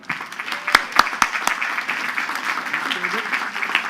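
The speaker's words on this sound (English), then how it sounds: "So let's give a big round of applause to Assemblyman David Weprin." A graduation crowd at the Queens College commencement gives a round of applause, starting with a few sharp nearby claps that swell into a steady, moderately loud roar of clapping across a large audience.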